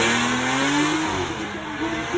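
A V12 car with an aftermarket exhaust accelerates past at a Beaulieu drive-by event, a loud, close engine note climbing in pitch, briefly dipping, then climbing again through a gear change.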